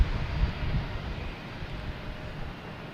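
American Airlines jet taking off at Boston Logan Airport, a low rumbling roar heard from a distance, steady and moderately loud with wind buffeting the microphone, gradually easing.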